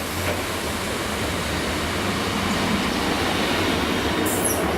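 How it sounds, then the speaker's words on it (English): An Arriva Trains Wales train arrives at Pontypridd station from Cardiff, its wheels faintly squealing. A continuous, fairly close rail rumble carries through the whole stretch. "This train is arriving from Cardiff."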